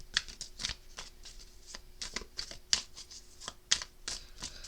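Oracle cards being shuffled in a quick series of crisp riffles and snaps, irregular bursts close to the listener, with no talking.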